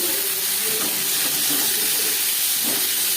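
Seven or eight garlic cloves drop into hot oil in a wok already used to fry potatoes for a chicken curry, giving a continuous bright hiss that stays close and even through the whole short stretch with no talking.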